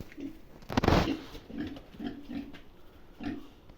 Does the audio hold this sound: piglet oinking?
yes